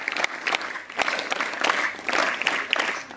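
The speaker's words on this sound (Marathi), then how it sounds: "याच्यासाठी 3 टाळ्या वाजवा।" Students at a school morning assembly clap in unison, giving three bursts of rhythmic applause that rise and fall in quick succession, fairly close and without talking.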